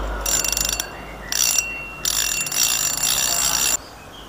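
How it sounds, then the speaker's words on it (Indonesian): A Lizard Muse 6000 fishing reel's clicker ratchets loudly and rapidly in three bursts, the last one long, close and alone with no talk. "Ini suara clickernya nyaring"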